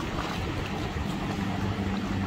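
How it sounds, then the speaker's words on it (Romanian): A fishing boat out on the open ocean, a low steady engine rumble carried over wind buffeting and the wash of waves, continuous and fairly distant. "Aceea e o barcă de pescuit."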